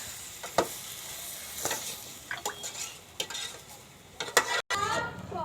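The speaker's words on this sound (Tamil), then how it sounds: "இது எல்லாமே போட்டு நல்லா கலக்கிக்கணும்" Spoon stirring garam masala, turmeric and other spices in a frying pan, with scraping, clinking strokes and a faint sizzle in a series of irregular bursts, close and moderately loud, no talking.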